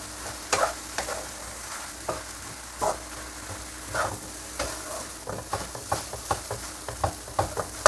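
Fried rice made with Thai and Taiwanese rice sizzles in a pan while a spatula stirs and scrapes it, giving irregular clacks and scrapes over a constant frying hiss, close up with no talk.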